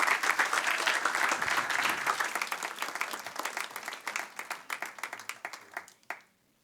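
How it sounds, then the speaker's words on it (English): A live audience at an evening event applauds warmly with dense, sustained clapping that slowly thins into scattered individual claps before stopping abruptly. "let's give a warm round of applause to our wonderful Lane and Ria"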